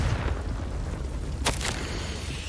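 A Confringo fire-blast spell cast in the Hogwarts Legacy video game bursts out as a short, bright crackling whoosh in two quick pulses, set over a steady low ambient game rumble.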